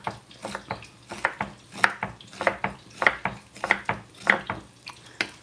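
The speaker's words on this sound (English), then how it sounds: "Chop on the board and throw it in" Seitan is chopped on a wooden cutting board, giving a steady run of about nine close, crisp knife strikes in an even rhythm with soft rubbing scrapes between them and no talking.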